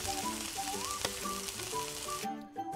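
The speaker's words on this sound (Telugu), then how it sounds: "కరివేపాకు 2 రెమ్మలు వేసి ఫ్రై చేసుకోండి." A tempering of urad dal, chana dal, cumin, dried red chilies and curry leaves fries in hot oil for potato fry, giving a soft, continuous sizzle under background music that cuts off near the end.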